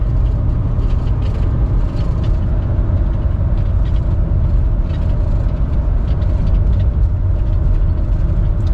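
Hemi V8 truck with its cylinder-deactivation (MDS) system deleted and PCM unlocked, accelerating on the road toward 60 mph; a steady, loud low engine drone with road and wind noise throughout, no voices.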